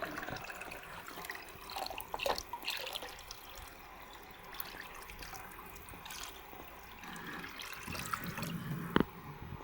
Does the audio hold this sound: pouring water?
yes